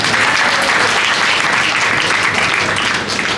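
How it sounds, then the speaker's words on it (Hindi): Loud, steady applause from an audience at a Sri Narayan Jayanti festival program at an ashram, dense clapping filling the whole stretch without a break. "इनके लिए जोरदार तालियां हैं"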